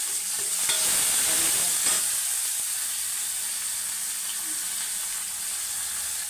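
Spices sizzle in hot oil for a puliyogare tempering, a continuous bright hiss with a few light scrapes early on, easing slightly as it goes.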